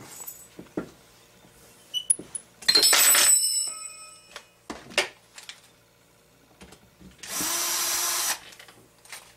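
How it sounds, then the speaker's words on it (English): Bolts come out of a CY 23cc engine during a rebuild with metallic clicks and taps from a manual wrench, broken by two short whirring bursts like a small power driver, close and otherwise quiet. "So we're going to go ahead and grab our manual wrench and put it in there. And go ahead and finish taking this one out."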